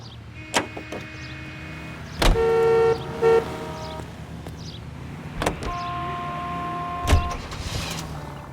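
A 1940s-era car driving through the city in L.A. Noire, with a low steady vehicle hum, sharp thuds and several sustained horn-like tones sounding in the distance, no talk.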